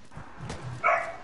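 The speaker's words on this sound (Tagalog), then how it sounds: "Nag-aaway yung aso." A video game dog barks and yelps in a quick, agitated burst during a dogfight, close by, with a brief scuffle before it.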